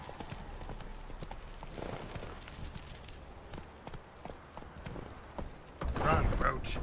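Roach the horse from The Witcher 3 gallops with a steady run of hoof clip-clops, moderately loud, while in-game speech and ambient sounds play around it.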